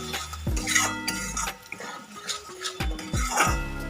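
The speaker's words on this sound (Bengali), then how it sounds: "এবার মশলাটাকে ভালো করে কষিয়ে নেব" Spice paste with salt and turmeric is stirred and sautéed in a pan for a sol fish curry, with intermittent scraping strokes and metallic clinks from the utensil against the pan, close and fairly clear.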